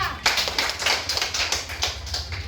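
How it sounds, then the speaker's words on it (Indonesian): A classroom of students claps hands together in a quick, regular rhythm, a close series of sharp claps that continues evenly throughout. "Oke, tepuk tangan buat Pasca."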